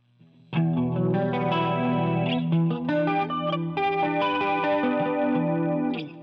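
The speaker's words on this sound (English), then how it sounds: "Right now that's a warm clean amp. There's a compressor and a chorus on." An electric guitar played through a Boss GT-8 on a warm clean amp setting with compressor and chorus rings out in sustained, shimmering chords, loud and close, changing every second or so.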